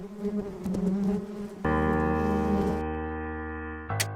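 Bees buzzing in a steady drone, the first part denser and rougher, then a smoother sustained tonal hum that fades slightly before a brief louder burst at the end.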